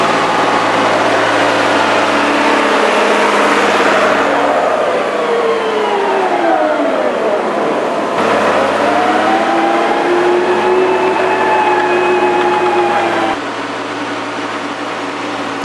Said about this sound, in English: The tractor did very well today.